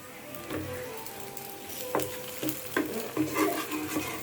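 Parotta flatbreads frying on a hot griddle at home, a steady close sizzle broken by several sharp scraping or stirring clacks, with no voices.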